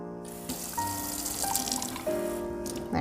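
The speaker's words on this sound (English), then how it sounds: "unscrew the cap and fill the rest of the bottle up with water" Tap water running into a plastic bleach bottle for reverse tie-dye, a quiet close trickle and splash with rising pitched gurgle as it fills, starting and stopping in a few short bursts.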